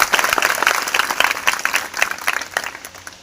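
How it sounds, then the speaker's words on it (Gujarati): A school audience of children claps loudly and steadily at a school gathering, dense applause that continues on its own for a few seconds. "એમના ઉત્સાહવર્ધન માટે જોરથી તાળી"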